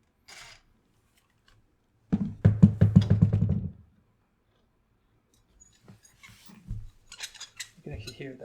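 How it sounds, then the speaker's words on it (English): A squeaky door hinge gives a close, loud burst of rapid rasping squeaks, then goes quiet, and fainter creaks and clicks follow as the hinge screws are handled. "You can actually hear that"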